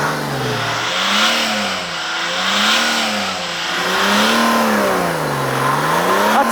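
A Mercedes S-Class 3.2-litre straight-six diesel revs repeatedly at close range, its engine note rising and falling in a steady wave over several seconds, with no talking.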